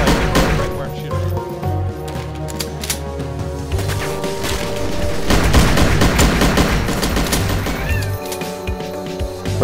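Rapid gunfire from the first-person shooter game Goldeneye Source during a capture-the-flag match on the Aztec map, bursts of shots and cracks running almost continuously over a steady game soundtrack, with a player talking over it.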